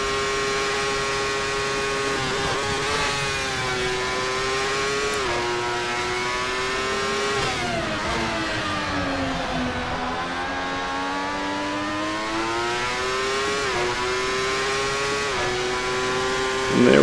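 A 1995 Ferrari 412 T2 Formula 1 car in Assetto Corsa screams at high revs through a continuous lap, its harmonic engine note rising and dipping with gear shifts and braking. The sound is loud, close and steady, with no speech.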